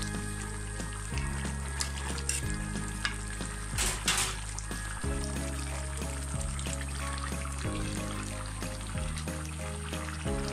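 Chapila fish curry with sweet potato cooking in a pan, a steady low bubbling sizzle running throughout with occasional soft stirring scrapes and a brief louder rustle near the middle, no voices.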